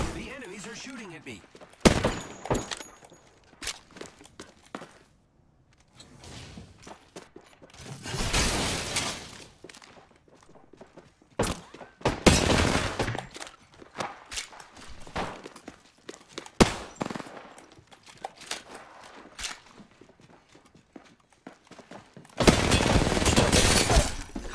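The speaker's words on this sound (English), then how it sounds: "The enemies are shooting at me." Enemy gunfire in the battle royale shooter Apex Legends comes as scattered sharp bursts and crackling volleys, some loud and some fainter, with voices speaking between the shots.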